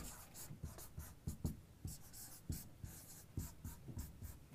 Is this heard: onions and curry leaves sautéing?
no